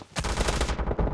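Automatic gunfire from the mobile battle game PUBG Mobile rattles in one brief, loud, rapid burst of shots.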